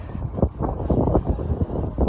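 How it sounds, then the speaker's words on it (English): Gusty wind buffets the microphone in low, rumbling bursts, loud and close, with no talking, outdoors in Ethiopia. "it's windy."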